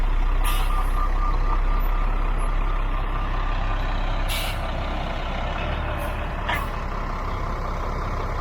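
Concrete truck loaded with ten yards of concrete, backing up with a loud rumbling engine close by. Sharp air-brake hisses burst out several times, and faint reversing beeps sound beneath them.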